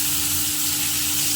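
Tomatoes dropped into a pan of frying onions give a steady, bright sizzle and hiss that holds evenly throughout the short moment, close and fairly loud, with no talking.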